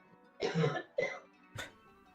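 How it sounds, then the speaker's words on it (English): Three quick coughs in a row, the first two throaty and heavier, the last short and sharp, heard somewhat in the background. "I heard a cough in the background"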